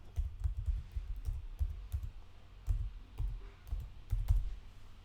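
Mouse clicks while confirming an email address during online account setup: soft, irregular clicks and taps spread across the clip, close and quiet, with no talking.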